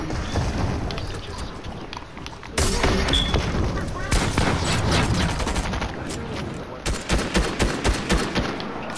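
Rapid gunfire from a gun in Fortnite rattles in bursts, sharpening into a dense volley midway and ending in a string of separate shots, with a voice talking over parts of it.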